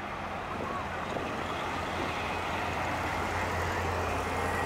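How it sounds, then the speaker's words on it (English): A yellow Corvette rolls out through the exit gates at an outdoor swap meet, its engine a steady, healthy rumble amid broad traffic noise. "Here comes a nice little yellow Corvette."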